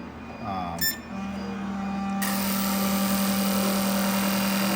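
A sustained high-pressure hiss and hum from a fuel injector high-speed spray test machine starts abruptly partway through and runs steadily to the end, loud and close.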